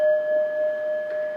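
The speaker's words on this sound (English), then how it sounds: "you'll hear a little chime or a little singing bowl that will sound like this." A small singing bowl or chime rings with a sustained, steady tone that lingers softly for over a second, with no voices.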